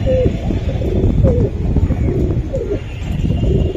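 Male Giribaz pigeon cooing close by, several short throaty coos with rising and falling pitch repeated across the clip over a dense background of other pigeons' murmuring and rustling.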